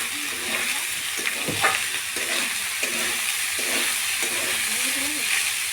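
Leftover rice is stir-fried in a pan under a constant sizzle. Rhythmic spatula scrapes and stirring strokes come through close up, with no speech.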